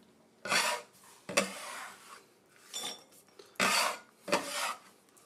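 A kitchen scraper drags food into a bowl in five close, rasping strokes separated by short pauses, quiet and with no talk over them.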